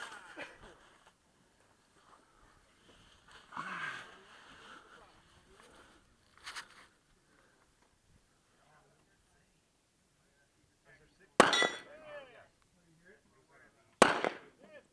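Pistol shots ring off steel target plates at an outdoor action-shooting competition, with two sharp, loud cracks near the end. Quieter muffled sounds and talk come earlier in the stretch.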